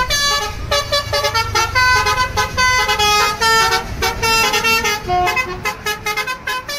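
Horns from a Damri bus and other vehicles blare in repeated bursts, some long and some short, loud and close, with engine rumble underneath and no talking.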